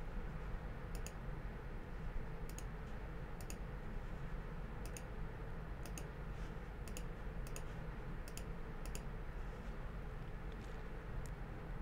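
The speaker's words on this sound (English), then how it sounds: "we can just use the keys on our keyboard to do that" Computer keyboard keys pressed one at a time while rating photos in photo-editing software, light sharp clicks spaced irregularly over a steady low background hum.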